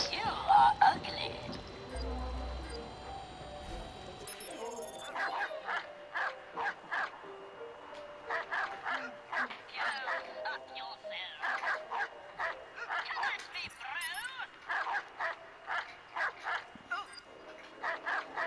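Dog in the video game Watch Dogs 2 barking in a long series of repeated short, sharp barks and yips at a fairly even rhythm, moderately loud, with game sounds and some speech around it.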